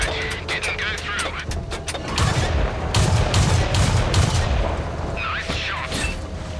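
Tank cannon fire in World of Tanks, a loud booming shot with rumbling gunfire-like bursts and a penetrating hit, dense and continuous across the span with crackling impacts layered on top.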